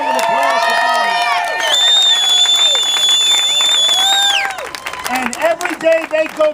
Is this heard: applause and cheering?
yes